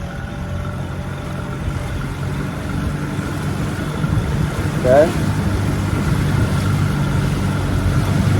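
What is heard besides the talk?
Carolina Skiff J16 boat motor running on water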